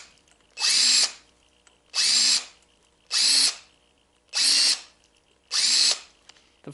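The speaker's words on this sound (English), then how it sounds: "Countersink these bolt holes and throw the other set screw in" A power drill countersinks bolt holes in a machined pulley hub for a mud mower transaxle, running in five even, loud bursts of about a second each with short quiet gaps between.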